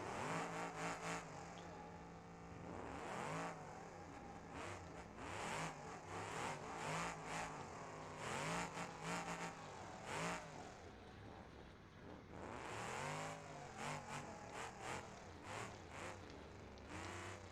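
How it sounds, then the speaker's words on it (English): A car engine in a BeamNG demolition derby race revs hard and repeatedly, rising and falling in loud, continuous bursts as the vehicle accelerates, with no voices over it. "As my engine is blowing up."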